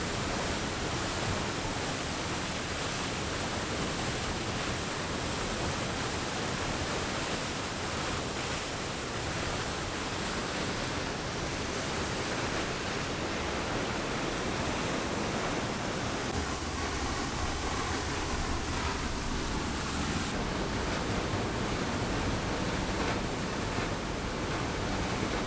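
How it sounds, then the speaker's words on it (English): Waterfall in Kranjska Gora, heard from a cave behind the falling curtain of water: a steady, loud broadband roar that fills the whole stretch without letup, with no voices. "The water's just kind of falling straight down onto you"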